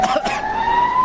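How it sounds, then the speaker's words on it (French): A fire engine siren arrives at a street protest in Terrassa, one steady rising wail that sounds loud and close and fills the whole short moment. "Il y a le camion de pompiers qui est en train d'arriver là pour"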